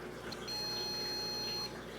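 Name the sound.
another quiet beep from an iDoo hydroponics grower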